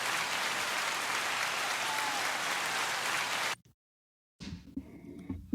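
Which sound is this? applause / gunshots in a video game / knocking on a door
applause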